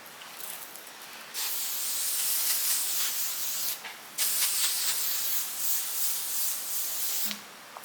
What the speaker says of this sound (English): My oil Sheen.